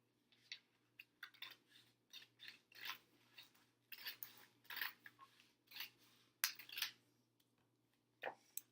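Scissors snip repeatedly through notebook pages, producing a series of crisp, close cuts in an irregular rhythm with short pauses between strokes.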